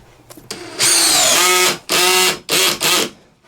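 A DeWalt 20V compact drill on its highest clutch setting driving a screw, loud motor whine in several bursts with the clutch slipping and ratcheting as the fastener stalls short of fully seated.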